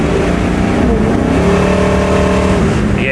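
Loud, close engine roar from a 1967 Chevy Camaro held under heavy throttle, a sustained dense rumble with a slight change in pitch partway through, steady throughout with no talk.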